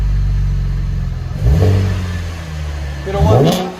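A Chevy Camaro 3.6L V6 fitted with an MBRP axle-back exhaust idles with a deep, steady rumble, then revs sharply twice, each rise loud and close before falling back to idle.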